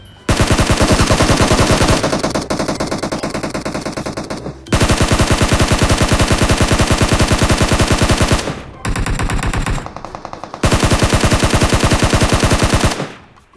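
Loud, rapid automatic gunfire from the video game PUBG comes in long sustained bursts separated by short pauses, with a brief quieter stretch of firing midway.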